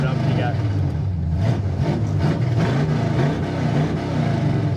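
A 1966 Pontiac GTO engine revs hard through open exhaust cutouts, a loud, rough low rumble swelling and dipping steadily close by, with voices talking over it.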